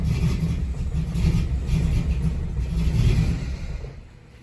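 A car engine fitted with S550 VVTs runs with a low, steady rumble that fails to rise when revved, then fades away as it dies near the end.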